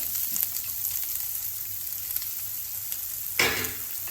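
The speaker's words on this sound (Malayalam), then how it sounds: "അതിനുശേഷം അതിലോട്ട് അരിഞ്ഞു വെച്ച 2 ചെറിയ സവോള ഇടുക." Two small chopped onions frying in oil with cumin for bhindi masala, a steady close sizzle running throughout, with a louder burst of crackling near the end as more hits the hot pan.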